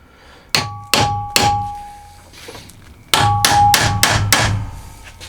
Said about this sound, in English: Even just go around it gently with a hammer,